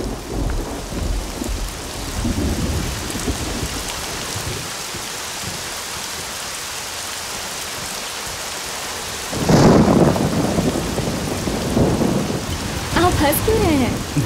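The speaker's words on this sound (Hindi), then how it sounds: "लेकिन बारिश आ गई।" Steady rain pours down with a constant hiss, and a deep rumble of thunder rolls in partway through, loud and close, with no talking.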